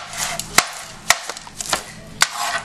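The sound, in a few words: chopping a leafy herb with a knife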